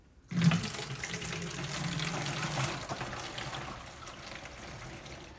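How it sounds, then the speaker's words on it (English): Liquid poured from a measuring cup into a bottle, a steady close splashing stream that starts abruptly and continues alone without talk, easing slightly toward the end. "I'm going to pour that into my bottle"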